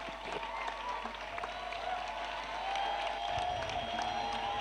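Applause from a crowd at an outdoor evangelism meeting carries on steadily, faint and somewhat distant, with loose clapping and scattered cheers spread through a continuous wash of noise.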